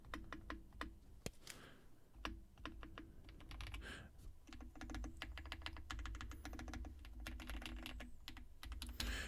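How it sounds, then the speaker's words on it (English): Typing on a Tecware Spectre 75 mechanical keyboard, with quick, crisp key clicks in irregular bursts and a deeper thock from the larger keys, close and quiet, with no talking. "All right, let's hear the keyboard."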